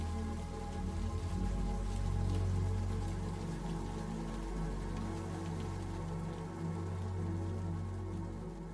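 A steady wash of rain falling on surfaces, continuous and dense, with no voices over it.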